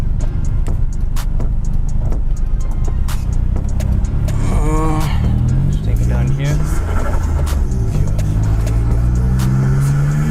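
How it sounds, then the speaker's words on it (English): A turbocharged Suzuki Alto K10 drives along, its engine rumbling and rising in pitch through revving sweeps, with ticking and clatter from the car, while a person talks over it inside the cabin. "I just can't get over how good this car sounds."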